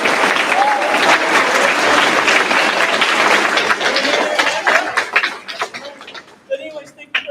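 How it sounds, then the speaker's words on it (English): An audience at the Concord University Honor Band concert applauds the university's students, a dense, sustained burst of clapping that thins out and fades toward the end. "Please, a round of applause for the Concord University students that have been the legwork of this wonderful weekend."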